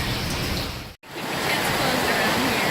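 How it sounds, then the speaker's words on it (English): Hot water pours into a pool at Goldmyer Hot Springs, heard as a close, steady rushing wash that fills the sound with one brief dropout near the start. "here's where the water's coming in"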